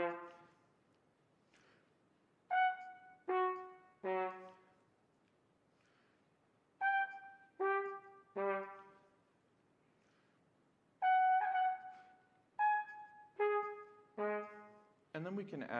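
A trumpet plays a phrase starting in the upper register and descending, in short clusters of detached notes separated by silences, close and fairly quiet, with no one talking.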